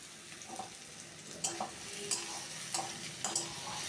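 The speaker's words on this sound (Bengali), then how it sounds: "এগুলোর সঙ্গে ভালো করে আলুটা নেড়ে চেড়ে কষিয়ে নেব।" Potatoes, chopped tomato and slit green chili stir-fried in a pan, a soft sizzle beneath repeated spatula scrapes and clinks against the pan at an uneven rhythm, close and fairly quiet with no voices.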